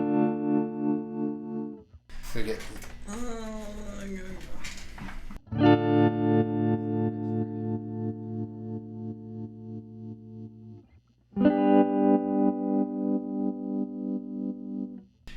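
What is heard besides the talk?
choppy stuttering modulation guitar pedal effect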